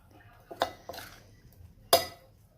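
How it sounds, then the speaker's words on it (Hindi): Cake batter ingredients stirred in a bowl for a vegetable tea cake, giving three short clinking, scraping knocks spaced about a second apart, the last one loudest, against a quiet room. "अब इन चीज़ों को अच्छी तरह से मिक्स कर लें।"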